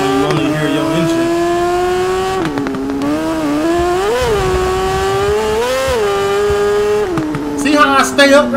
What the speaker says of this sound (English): feel the throttle when you only hear your engine.